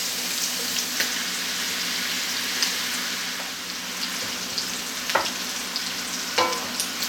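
Vegetables and spinach saute in oil in a large pan, a steady close sizzle and hiss with occasional soft stirring scrapes, moderately loud and without talk.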